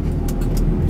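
A Buick Skyhawk J-body coupe engine pulls at half throttle, a loud, close, steady low drone with brief road-noise bursts over its short length.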